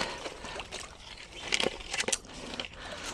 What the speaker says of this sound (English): I'm making a lot of noise and splashing